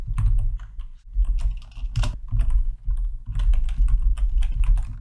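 Code being typed on a computer keyboard, a steady run of close, busy keystrokes for about five seconds with a brief pause near the start and no talking.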